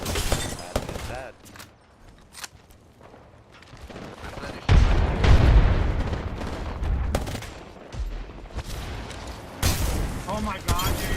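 Video game gunfire in rapid bursts and single sharp shots, some close and loud, with a heavier sustained barrage in the middle and shattering crackles, while a player talks over it.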